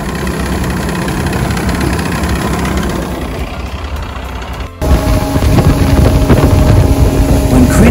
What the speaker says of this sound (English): Here's the inside of a boat engine.